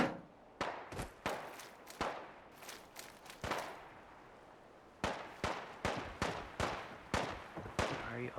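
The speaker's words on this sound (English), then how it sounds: "And now we're following some gunfire." Gunfire in the VR game Fallout 4, a string of sharp separate shots in uneven bursts, some close and loud and others further off, with short quiet gaps between them.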